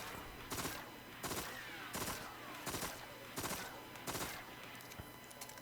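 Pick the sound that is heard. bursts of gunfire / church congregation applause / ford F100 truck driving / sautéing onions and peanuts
bursts of gunfire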